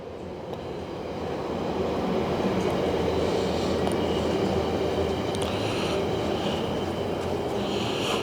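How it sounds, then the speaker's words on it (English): A train rolls past outside Brampton's Heritage Theatre, a broad, steady rumble with rattling wheels and metallic squeals that swells in the first second and then holds loud and close for the rest of the clip. "there's a train"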